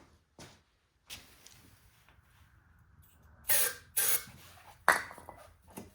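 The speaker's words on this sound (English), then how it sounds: "we're going to spray a little primer down in there or some starter" Several short hissing bursts of starter fluid sprayed into an old Toro CCR Powerlite snowthrower engine in quick succession, close up, with quiet gaps and faint clatter between them.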